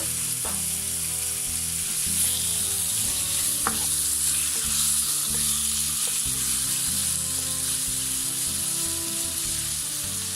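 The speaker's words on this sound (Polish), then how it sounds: "Na rozgrzany olej dajemy piersi z kurczaka." Steady, loud sizzling of chicken breasts frying in hot oil, a continuous crackling hiss with occasional pops and no talking.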